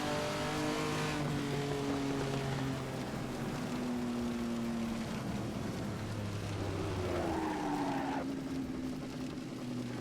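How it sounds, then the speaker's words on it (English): A Ferrari engine in the Goodwood Festival of Speed VR racing game on PC drones and revs in sustained tones that shift pitch with gear changes, a rising whine near the end before dropping back, loud and steady with no talk. "get the sound of this engine."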